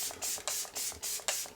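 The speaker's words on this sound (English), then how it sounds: "And I'm going to do some of the 24-hour setting spray." Several short hissing bursts of 24-hour makeup setting spray, misted close up in quick repeated pumps with brief pauses between them.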